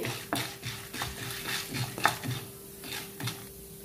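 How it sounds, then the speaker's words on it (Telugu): Spices for Andhra ginger chutney, fenugreek, cumin and coriander seeds, stir-fried in a pan, with steady scraping strokes of a spoon and a dry rattle over a constant low sizzle. Nobody speaks. "కలుపుకుంటూ అన్నీ ఈవెన్గా వేయించుకోవాలి."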